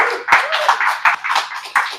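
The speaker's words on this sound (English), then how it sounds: "Can we give a standing ovation and a round of applause for Richard?" A small audience at a 1 Million Cups Chicago gathering claps for a presenter named Richard, with loud, close, distinct hand claps in an uneven rhythm over two seconds.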